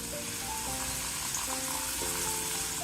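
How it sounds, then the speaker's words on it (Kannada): Water poured into a pan of frying ivy gourd pickle, a steady loud rush of liquid and sizzle that holds evenly throughout, close and without talk. "ಇವಾಗ ಇದಕ್ಕೆ ಸ್ವಲ್ಪ ನೀರು ಹಾಕ್ಕೋಬೇಕು"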